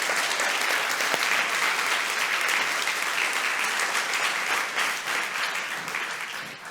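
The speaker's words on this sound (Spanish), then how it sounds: "Alguien debe haber aplaudido ahí, pero si no, pues aplaudimos todos." A church congregation applauds together in steady, sustained clapping that fills the room, staying loud before tapering off slightly at the end.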